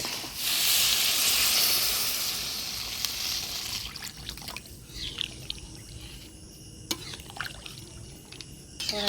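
Mutton frying with spices and a little water in a home kitchen, a strong steady sizzle filling the first few seconds, then thinning to quieter crackling with scattered clinks and spoon scrapes.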